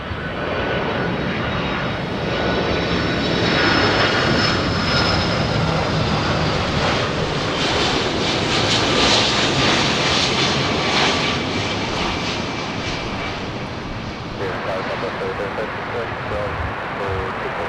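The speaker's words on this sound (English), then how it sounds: "We have Delta's 427 flying in from Honolulu." A Delta Boeing 767-300 arriving at Los Angeles airport from Honolulu roars loudly with sustained jet engine noise and whining tones, swelling then easing, while a voice talks over it.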